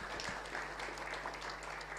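A church congregation claps in praise during a live Indonesian worship service, a steady, even wash of applause that stays fairly soft and distant for the short stretch, with no talking over it.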